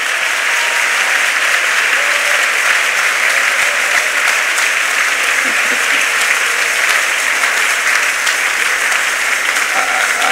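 A church congregation claps together at an RCCG thanksgiving service, a dense, steady wash of applause that stays loud and even throughout with no break.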